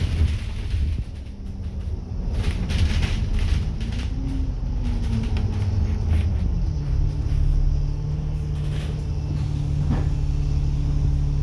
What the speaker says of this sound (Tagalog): huminto ang bus na aking sinasakyan